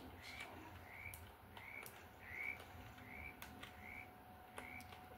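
Repeated short croaks from frogs in the Roblox game 99 Nights in the Forest, roughly one per second, sound over a low rumbling background with occasional sharp clicks.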